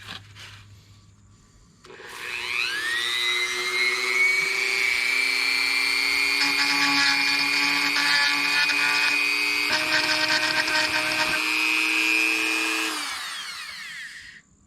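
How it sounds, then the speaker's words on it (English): A Dremel rotary tool fitted with a small cutting bit whines up to speed and grinds steadily into model material for about ten seconds, then spins down. It is close, with no talk. "So we have the Dremel with the little cutting tool there."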